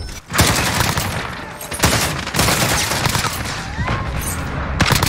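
Sustained CR-56 rifle fire from the Modern Warfare video game, rapid loud bursts of gunshots filling nearly the whole stretch with only brief pauses between volleys.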